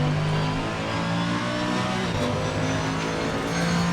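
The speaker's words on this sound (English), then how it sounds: "I love the AMG, the sound." A Mercedes-AMG race car in Assetto Corsa Competizione, racing at Zolder, gives a loud, continuous engine roar as revs rise and fall through gear changes, with a hint of tire noise and no voices.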